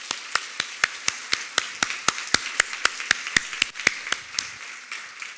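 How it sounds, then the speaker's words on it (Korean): A church congregation applauding, heard as a run of sharp, evenly spaced claps at a steady rhythm, fairly close and clear, with no talk over it. "하나님께 한번 감사의 박수 한번 드리겠습니다"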